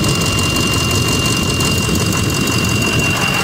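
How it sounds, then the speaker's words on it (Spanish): An air compressor runs loud and continuous, giving a dense, steady mechanical roar with a faint high whine and no change across the short stretch. "Ahí está, sí hay compresora."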